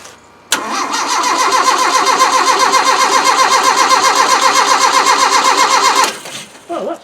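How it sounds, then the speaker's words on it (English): An old Land Rover 90, unused for four years, cranks over with a fast, even rhythmic churn for about five seconds without catching, then stops, followed by brief faint movement sounds. "Well, that's kind of cute because it does turn over."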